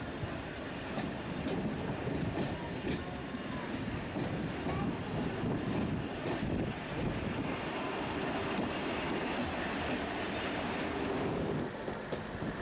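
A British Rail Class 08 diesel shunting locomotive departs, rumbling steadily for several seconds, its low engine drone mixed with rattling carriage noise and gusts of wind buffeting the microphone, on a rural English branch line.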